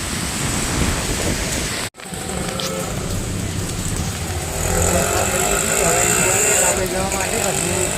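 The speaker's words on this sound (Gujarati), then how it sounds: "વરસાદ ચાલુ જ છે હજુ" Steady rain pours outdoors near Mehsana in Gujarat during a heavy downpour, a continuous close wash of hiss with a brief break, faint background sounds and possible distant voices.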